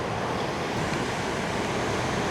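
Ocean waves at a shoreline at night give a steady, loud wash of surf mixed with wind rumble, continuous and without voices.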